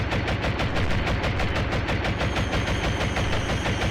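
Aircraft bombing ships in the Atlantic Fleet naval video game, a dense, continuous barrage of rapid explosive and gunfire-like bursts, loud and sustained throughout without any talk.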